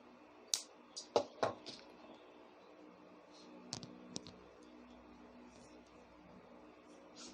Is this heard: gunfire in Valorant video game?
no